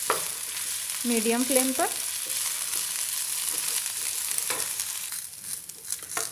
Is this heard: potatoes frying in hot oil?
yes